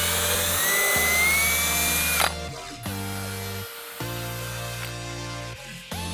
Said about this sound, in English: I'm gonna drill some pilot holes first